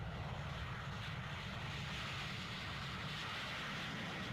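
The Concorde 002 supersonic airliner takes off with a steady, dense jet engine roar, loud and continuous throughout with a heavy low rumble and no voices.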